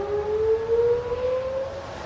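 A distant civil defense siren, tested at noon on a Wednesday, wails in a long, steady tone that rises slowly in pitch, droning on over faint outdoor background noise.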